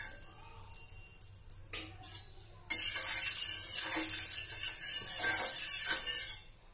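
A paratha sizzles in ghee on a hot iron tawa, a faint crackle that swells into a loud, steady fry partway through, with light scraping and clinking of utensils.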